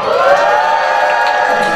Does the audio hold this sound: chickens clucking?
no